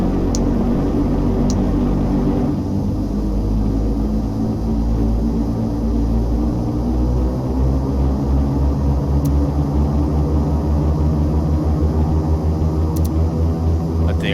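Turbo Commander 690B turboprop engine in the X-Plane 11 flight simulator, a loud constant low drone with steady tonal hum, heard alone without talk.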